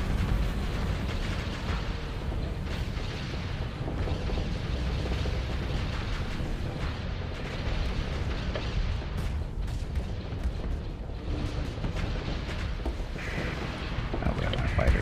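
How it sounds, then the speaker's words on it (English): Missiles launching and exploding in the space combat game Starsector, heard as a dense, continuous rumble of booms and blasts that stays loud for the whole stretch, with occasional sharper hits and a voice faintly underneath. "Missiles flying out."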